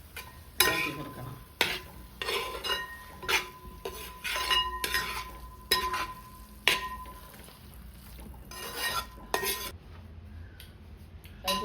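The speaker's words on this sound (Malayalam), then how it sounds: "ഇളക്കി കൊടുക്കണം" A metal spoon repeatedly scrapes and clinks against a pan while conch masala cooks for a Kerala-style stir fry, sharp irregular strokes over a faint sizzle, close and moderately loud.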